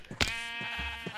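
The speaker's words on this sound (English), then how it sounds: "There's loads of sheep." A sheep bleats in Minecraft. It is one clear, near, wavering bleat that runs about a second, set against quiet background.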